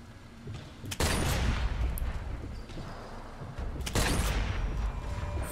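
Two loud sniper rifle shots in the video game Sniper Elite 4, about three seconds apart, each a sharp booming crack with a rumbling tail.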